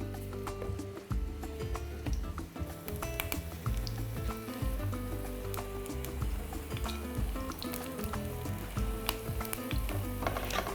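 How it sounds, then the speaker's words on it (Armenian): Eggplant slices fry in a pan for beef with marinated eggplant, giving a steady, close, continuous sizzle with crackling pops throughout and no talking. "Սմբուկները տապակում ենք։"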